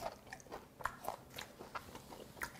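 Someone chews the remaining shell and meat of a bear shrimp, soft repeated crunching bites in a loose rhythm, close but quiet, with no voices.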